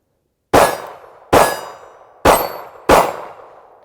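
A Ruger LCP compact pistol fires four shots at an outdoor range, each a sharp loud crack with a short ringing decay, spaced unevenly about a second apart.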